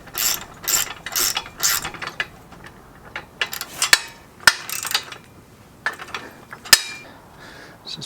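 Ratcheting clicks as the threaded feet of a Pittsburgh 1500 lb ATV/motorcycle lift are screwed down toward a concrete floor, with bursts of rapid pawl clicking and a few sharper metallic knocks, close and alone.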